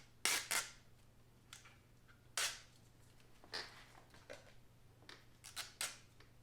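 Backing peeled off adhesive tape while fitting headlight bezels to a Jeep Renegade Trailhawk, a series of quiet, sharp tearing crackles in short separate bursts over a low steady hum.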